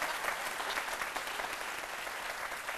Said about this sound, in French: Je ne sais pas si vous avez entendu les applaudissements, qui continuent d'ailleurs.